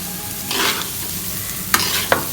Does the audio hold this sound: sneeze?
no